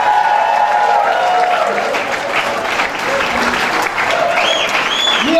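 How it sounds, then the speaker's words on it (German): A carnival session audience in Wombach applauds loudly and steadily, a thick crowd of clapping that carries through the whole stretch, with voices and a few whistles over it. "Das ist jetzt mal euer Applaus."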